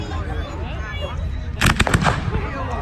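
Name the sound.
fireworks display on Bonfire Night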